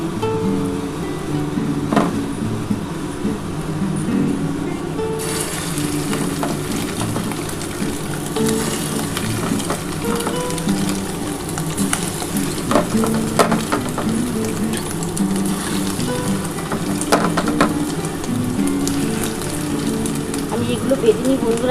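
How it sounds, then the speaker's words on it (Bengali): Fish roe fritters frying in a pan of hot oil give a steady close sizzle and bubbling throughout, with occasional stirring and light clinks, while a person talks over it. "এবার যে কটা আছে এই কটা ভেজে নিই ভেজে তোমাদের দেখাচ্ছি"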